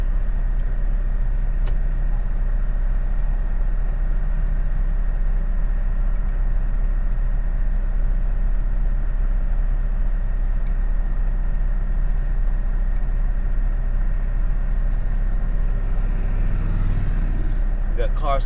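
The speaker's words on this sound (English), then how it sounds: "Got cars coming from both sides right now. This truck here is turning." A semi truck drives at night out of Houston, Texas, its engine a steady low drone that fills the cab throughout, with faint traffic noise rising briefly near the end.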